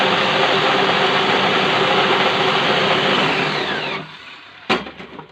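Electric blender grinding salted spices, a loud, steady whirring roar close by that winds down after about four seconds, followed by a couple of sharp knocks.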